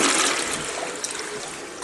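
A two-piece toilet in an old house flushes close by, a loud rushing swirl of water that holds steady for under two seconds, with no talking over it.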